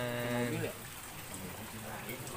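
Steady rain patters and hisses across the whole clip, with a brief tonal sound at the start before it settles into even, close rainfall.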